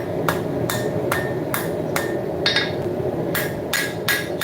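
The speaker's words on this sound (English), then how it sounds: "Start forging that down." Hammer blows forging knife steel cut from a .50 cal machine gun barrel, about ten sharp ringing strikes at a steady rhythm over a constant background hum, close and loud.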